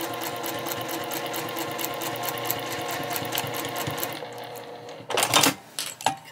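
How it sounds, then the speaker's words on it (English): A sewing machine stitches fabric pieces together with a backstitch, a close, rapid mechanical whirring that runs steadily, then stops and gives way to a few handling clicks and rustles at the end. "So we're gonna sew this together,"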